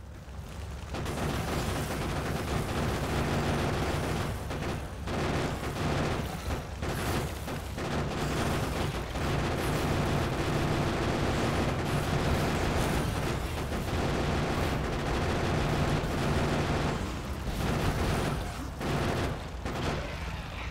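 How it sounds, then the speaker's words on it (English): Dense, continuous gunfire and grenade blasts from the video game Factorio during a hunt for biters, loud and unbroken for about twenty seconds with booming bursts layered over the rapid shots, no talking. "let's hit tab and we'll switch to the guns and then I'll get my grenades"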